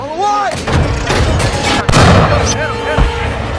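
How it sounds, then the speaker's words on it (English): Heavy gunfire and booming tank rounds in a war film battle scene, with sharp bursts and a big blast near the middle over a layered soundtrack. A voice speaks briefly in the mix. "They use machine guns and high-speed tank rounds."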